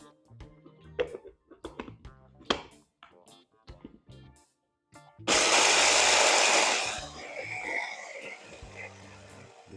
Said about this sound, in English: we're gonna blend our oatmeal and make it very smooth